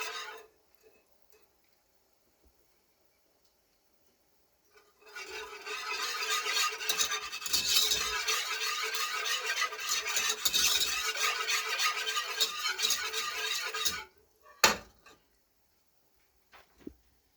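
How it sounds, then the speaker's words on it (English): A whisk rattles briskly against a bowl, beating cream, ghee and seasonings together for a Fettuccine Alfredo sauce; steady, fast metallic scraping runs for several seconds after a quiet stretch, then stops, followed by a single clink. "I'm going to go back here to whisk the cream and the ghee and the seasonings together"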